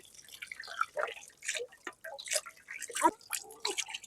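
A whole raw chicken is rinsed under running water, with close, uneven dripping and trickling splashes throughout.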